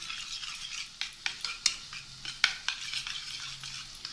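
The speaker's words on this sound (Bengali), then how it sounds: "টক দইয়ে 1 চামচ চিনি দিয়ে ওটাকে ভালো করে ফেটিয়ে নেব" A spoon whisks sour yogurt and a spoonful of sugar in a bowl for a Dahi Bhindi gravy, making quick, uneven scraping and clicking strokes at close range with no talking.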